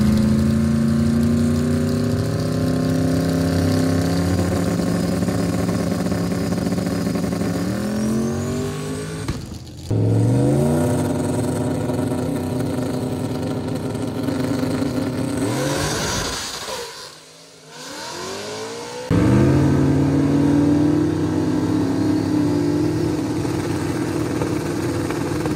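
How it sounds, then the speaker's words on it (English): Street cars at a car takeover rev hard and race past, with loud engine roars that climb and drop repeatedly and a brief dip before another car accelerates away. "I did get a few clips of my buddies' cars that were racing there"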